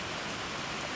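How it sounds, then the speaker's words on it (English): Loud rain pours steadily outside, a dense, even hiss of drops filling the whole second with no break and no voices. "I have a feeling the sound isn't going to come through well with this rain. It's pretty loud to me."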